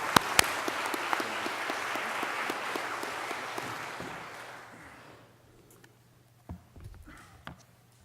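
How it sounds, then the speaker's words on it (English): Applause from an alumni assembly audience at a college reunion weekend, steady and dense for about five seconds before fading out, followed by a few scattered claps and faint room noise. "Just one more round of applause for all of them for a great group."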